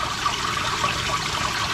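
Koi pond water flowing steadily down into a gutter, a continuous close splashing trickle with no voices.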